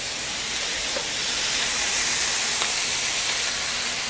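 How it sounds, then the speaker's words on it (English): Steam hisses steadily from a covered pan of melting cheese with water added, a broad, even rush that holds for several seconds with no talk over it. "We're gonna put some more water. We're gonna steam it again."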